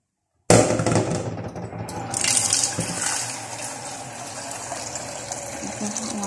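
Water gushes suddenly into a pot for cooking rice, starting loud and close, then settling into a steady filling rush that continues to the end.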